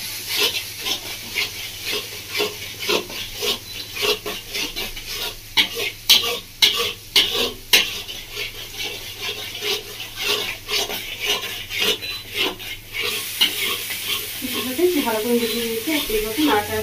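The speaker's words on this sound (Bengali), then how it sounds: "ভালো করে মিশিয়ে নেবো মশলাটা" A spice mix of Kashmiri chilli powder and salt is stirred in a hot oiled pan for a village-style singi fish tel jhal. Dense, rapid scraping strokes run over a continuous sizzle, close and fairly loud throughout.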